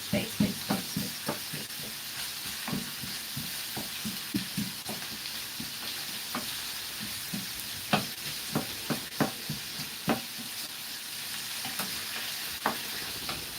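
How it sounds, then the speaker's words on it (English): Onions fry in a pan with a soft steady sizzle while a spoon scrapes and stirs in repeated irregular knocks, close but fairly quiet, with no voices. "Just stir it so it doesn't burn."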